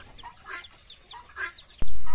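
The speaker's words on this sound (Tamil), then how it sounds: "கோழி கத்துற மாதிரி சவுண்டு கேட்டுக்கிட்டே இருக்கும். அது வேறு எதுவும் இல்லை, கிண்ணி கோழி இருக்குது பாருங்கள்" Guinea fowl call over and over in repeated harsh, clucking bursts at moderate distance, ending with a sudden loud knock or thump close by.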